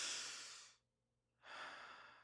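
A single person takes a deep breath: a long, close exhale, a brief silent pause, then another breath, soft and intimate.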